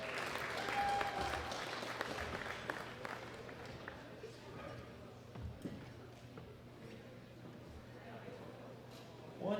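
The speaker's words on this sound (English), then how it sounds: "Give me a round of applause for Loaded Bar Collective." Crowd applause fills the arena at the World Classic Powerlifting Championships, a steady, dense wash of clapping that holds for the whole stretch, with voices mixed in under it.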